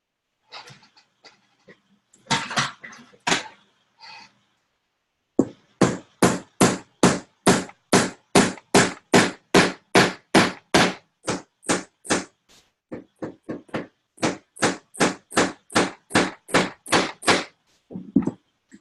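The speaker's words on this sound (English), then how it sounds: "Grab the hammer." A hammer taps pieces of a glued desk organizer together in a long run of sharp, evenly spaced strikes, close and fairly loud, with a few scattered lighter knocks at the start and end.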